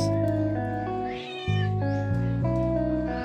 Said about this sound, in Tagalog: Ang hikain na pusa.